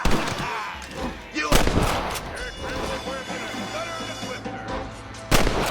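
Gunfire in the Western video game Red Dead Redemption: sharp, loud shots crack out around 1.5 and 5.3 seconds, with scattered distant reports and a low battle rumble between them, partly under speaking voices.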